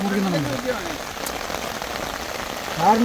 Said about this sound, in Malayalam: നല്ല മഴ പെയ്യാണ്